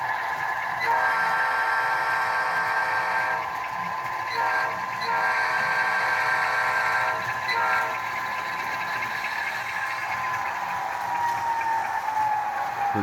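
An HO scale model GE diesel locomotive sound drones loudly and continuously, with a sustained horn-like harmonic tone riding over the rumble.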